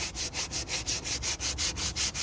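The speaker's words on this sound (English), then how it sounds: "I use a lot of sandpaper." Sandpaper is rubbed back and forth by hand in quick, even strokes, about five per second, a close, loud, rhythmic scratchy rasp with no talking.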